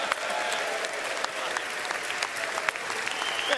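Sustained applause fills a House chamber after a member from Louisiana is recognized to speak, a dense, steady wash of clapping from a large crowd, fairly distant and without a break for its whole length.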